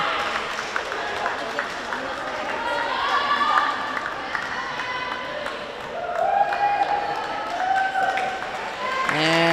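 Crowd at an indoor girls' varsity swim meet applauds and cheers a swimmer after her finish, a swelling wash of clapping and shouts with some voices over it.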